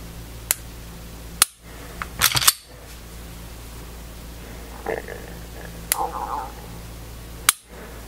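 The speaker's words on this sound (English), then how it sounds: "Much louder reset now." Trigger reset clicks from a Smith & Wesson M&P pistol fitted with an Apex Tactical R.A.M. (100-069) come as a few sharp, isolated snaps spread across a quiet background, with faint mechanical handling noise between them.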